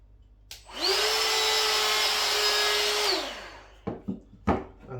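A Ryobi 18V cordless router spins up to a steady high whine, holds it for a couple of seconds, then winds down, followed by a few sharp clacks from handling.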